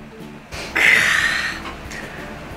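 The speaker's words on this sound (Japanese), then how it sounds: "どのご家庭にもある、強炭酸水ですね、こちらを、注いでいく" Strong carbonated water is poured over Kaku whisky for a highball, giving a short, bright fizzing hiss of about a second that fades into soft bubbling in a quiet room.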